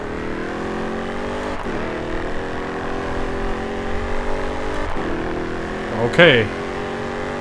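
A race car in the Grid 2 video game revs steadily and loudly throughout, its engine tone dipping and climbing at gear changes, with a brief screech near the end and a voice speaking once.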